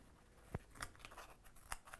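Spring-loaded scissors snip a few times, quiet and close, with sharp isolated cuts spaced irregularly over faint background hiss.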